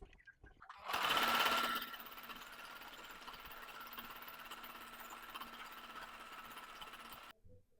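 An electric sewing machine stitches the edges of a ragi-filled baby pillow, starting with a louder run-up and then settling into a steady, close mechanical hum and clatter that stops abruptly.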